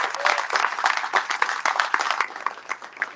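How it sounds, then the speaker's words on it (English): Audience applause after a presentation at an AI business pitch event, a steady wash of many hands clapping for about three seconds, loud and close, continuous with no speech over it. "Everyone give it a round of applause to Henry."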